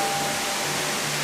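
A dense, roaring rush of falling water from Fudo Falls fills the space evenly, loud and constant with no breaks, like standing close to a cascade.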